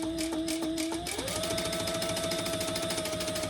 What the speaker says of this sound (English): we're going to stitch just above that folded line on the raw edge side